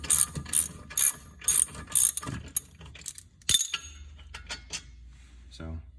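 Ratchet tightening brake caliper bolts on a 2013 Chevy Cruze, a series of loud rapid clicking bursts in a quick rhythm, followed by a single sharp knock and a few softer clicks near the end.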